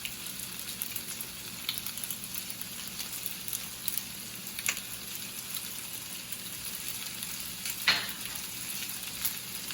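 Salted potatoes frying in a pan give off a continuous soft sizzle and crackle, with a few sharper pops and scrapes scattered through the steady hiss.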